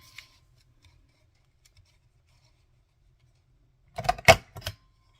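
Scissors trim a poorly punched paper journal tag. A few quick, crisp snips come close together after a long near-silent stretch.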